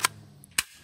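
A mud-covered toy gun fires twice, each shot a sharp, close snap about half a second apart, with near silence between.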